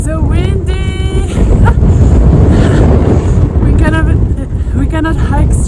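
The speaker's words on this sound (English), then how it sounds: "The wind is not helping us." Strong wind roars and buffets the microphone on the Pacific Crest Trail near Hikertown, a loud constant low rumble with a person talking intermittently over it.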